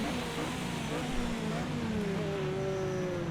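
Toyota TS050 Hybrid LMP1 engine in Project CARS 2 at Spa-Francorchamps, a steady high-pitched drone with tones slowly rising and falling as the car is held on track through Blanchimont, continuous and fairly close throughout.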